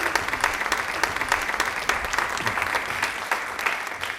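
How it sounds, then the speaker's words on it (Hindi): Steady, dense clapping from a studio audience at a Women's Day television quiz and discussion program, sustained at an even level for a few seconds without talk. "तालियां एक बार जोरदार"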